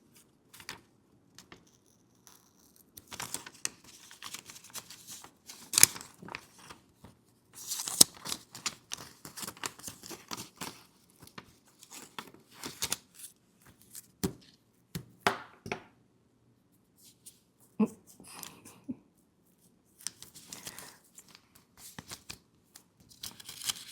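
Scissors snipping through material in short irregular bursts, close and fairly quiet, with clicks and rustles between cuts and no talk.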